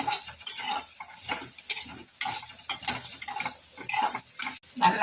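A utensil stirring and scraping ingredients sautéing in oil with a little asafoetida in a pan, giving repeated close clinks and scrapes over a soft sizzle.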